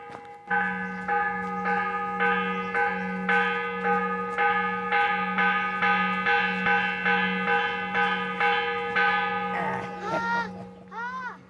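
A church bell rings steadily and loudly with rapid repeated strikes whose overtones hang and blend for about ten seconds before stopping, with no talk over it.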